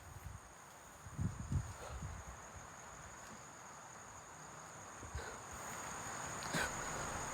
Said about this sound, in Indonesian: Suara angin pun berembus terus,